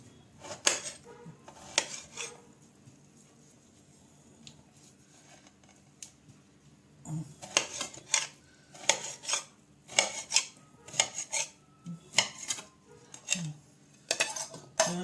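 A knife cutting oranges for marmalade on a board, giving a series of sharp slicing clicks and knocks, sparse at first, then coming in quick irregular clusters later, near and with no talking.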